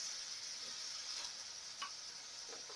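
Chickpeas sizzle in a hot pan with a steady, bright frying hiss, broken by a few faint ticks and soft clicks near the end. No one speaks.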